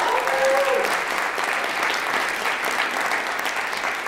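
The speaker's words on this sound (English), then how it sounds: "We'll give Adam a quick round of applause." A high school winter concert audience gives steady, full applause for trombone player Adam Harden of the jazz ensemble, with a voice briefly audible at the start.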